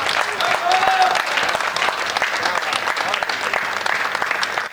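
An audience at a Hindi poetry recital about Maharana Pratap breaks into loud, sustained applause, a dense wash of clapping close by with a voice heard briefly over it.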